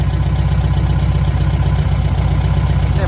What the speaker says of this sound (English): At least it runs and idles.